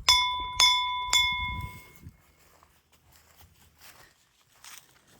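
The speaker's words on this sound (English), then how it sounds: "you ring the bell." At a horse obstacle course, a metal bell is rung three times in quick succession, bright and close, followed by faint footsteps and soft outdoor rustling.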